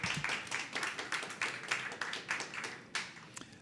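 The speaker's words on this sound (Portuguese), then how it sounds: "Então, uma salva de palmas para a Jennifer Nascimento." An audience applauds Jenyffer Nascimento at a poetry event at Sesc, a dense, steady patter of many hands clapping together, close and lively, with no talk over it.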